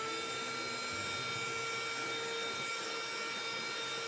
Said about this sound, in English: I found this vacuum on Amazon.